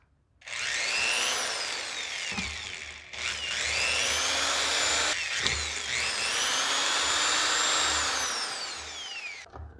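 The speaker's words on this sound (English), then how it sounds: "drill those out about the same diameter drill bit as the screw" A power drill bores holes in a stock spacer, with the bit sized to the screw: three long, loud, close whining runs of high-pitched drilling, separated by brief pauses, with no talk.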